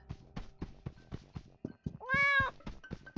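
Cat meowing in the video game Escape from Ever After, one drawn-out, clear meow over a busy run of rhythmic knocking game sounds, with no talking.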